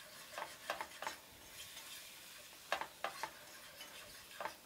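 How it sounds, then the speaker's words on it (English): Flour is whisked into melted butter in a pan for turkey gravy, heard as a few quiet bursts of brisk whisk strokes scraping the pan over a faint sizzle. "So I'm going to start adding some flour and whisking it around"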